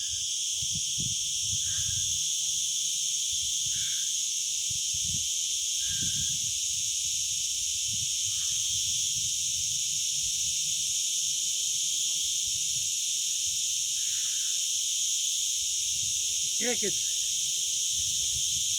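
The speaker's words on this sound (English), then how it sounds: "Crickets you hear everywhere." Crickets chirping outdoors near a wooden beam, a continuous high shrill drone that persists for the whole stretch, with faint scattered knocks and low rustles beneath it.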